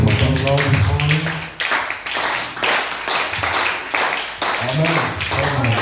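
A church congregation claps together in a steady, fairly loud run of applause with rhythmic taps, while a voice speaks over it at intervals.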